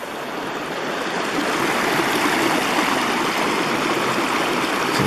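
Swollen water in Reedy Creek rushes and gurgles nearby, a dense, constant flow that rises slightly in loudness and holds steady, with no talking.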